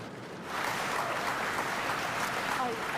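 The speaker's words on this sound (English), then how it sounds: "that was a thunderous applause in comparison to Cambridge" Audience applause rising after a brief quiet start into steady, dense clapping that fills the room, loud and sustained to the end, with some crowd noise mixed in.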